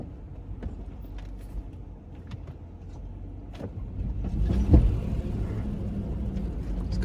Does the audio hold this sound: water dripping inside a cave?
no